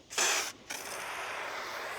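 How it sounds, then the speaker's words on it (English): Two quick trigger spritzes of BioWorx bio-based all-purpose cleaner diluted 15:1 hiss onto a car during detailing, the first short burst followed after a brief pause by a longer steady spray, close and fairly soft. "so we're gonna spray our APC, and well, let's see if it actually foams"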